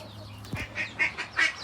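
Several baby chickens call in short, bright bursts, close and moderately loud, with a brief lower flutter near the start and no talking.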